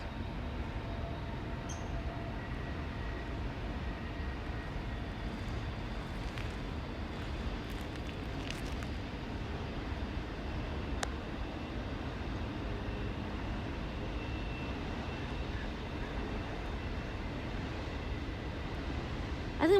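A CPKC intermodal freight train, hauled by a new ES44AC locomotive, rolls past at Matsqui, British Columbia, giving a steady, continuous low rumble of wheels and cars that holds at an even level throughout with no talking.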